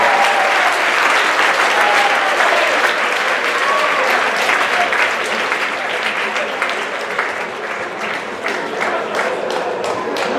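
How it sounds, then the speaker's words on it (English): A crowd claps at a live hypnosis show, a loud, sustained burst of many hands that thins slightly toward the end, with scattered voices underneath. "Round of applause."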